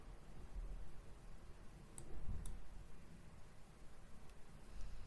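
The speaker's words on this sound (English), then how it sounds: "go ahead and click next and then click send mail" A couple of faint, sharp computer mouse clicks, roughly half a second apart, sound against quiet room hiss while an email is sent.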